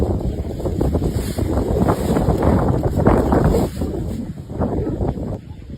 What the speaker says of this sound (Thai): ลมจะโชยมาทางฝั่ง ตะวันตกเฉียงใต้